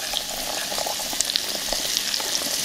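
Hot oil sizzling over a Mexican-style chili oil spice blend as it is stirred, with a dense, close frying hiss and frequent small pops and crackles that stay at an even level throughout.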